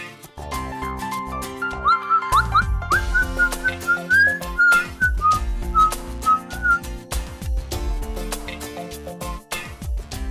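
A person whistles a lively, wavering tune over background music, the melody running in short phrases for several seconds.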